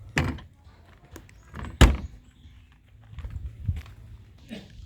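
Rear door of a Kia Carnival minivan being shut, a few sharp thuds with one loud slam in the middle, plus light clicks and handling noise nearby.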